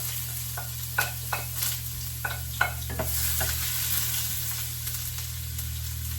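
Ginger sautéing in a pan for laing, spicy taro leaves in coconut milk, a steady low sizzle with several sharp scrapes and clacks of a utensil stirring, no talking.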